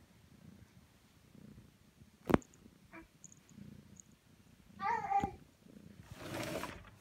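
Pet cats purr softly and close, with a few brief meows and a sharp knock in a quiet indoor room.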